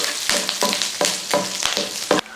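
Curry leaves and crushed garlic hit hot oil in a pan for a potato fry, bursting into loud crackling sizzles with repeated sharp spattering pulses as they are stirred, close and steady.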